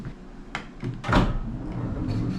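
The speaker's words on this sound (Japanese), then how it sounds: "ドアが閉まります。" An elevator door slides shut with a few soft knocks and then a brief thud as it closes, heard close amid light background noise.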